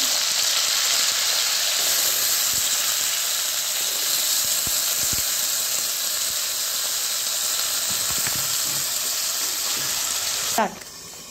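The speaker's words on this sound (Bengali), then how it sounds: "আলু দেবো, আলুটা ভেজে তুলে রাখি।" Potatoes frying in hot oil after paneer, a loud, steady, dense sizzle that holds unbroken, with a few faint stirring knocks and a brief sharp squeal near the end.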